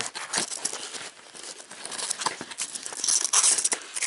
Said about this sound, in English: let's open this flap here.